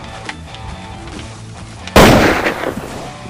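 A single sharp, loud gunshot from a real gun cracks close by, then trails off into a reverberant tail, following a stretch of quieter ambience.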